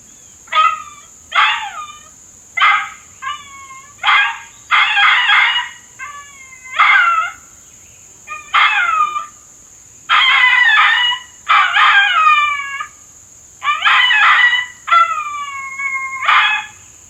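A played recording of a coyote pup yip-and-moan call, MFK edition, sounds as a rapid series of loud, high, wavering yips and moaning calls with short gaps between them, close and clear over a quiet background.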